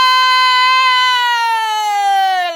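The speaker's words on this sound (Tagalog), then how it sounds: "Yung wangwang po ba?" A siren wails loud and steady for a few seconds, its pitch sliding gently downward near the end, with no talk over it.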